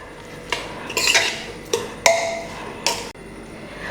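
Pieces of pork are being mixed with crushed pepper, green chilli and salt, giving a few sharp metallic clinks and scrapes against a vessel. The clinks come at irregular intervals over a quiet background with no talking.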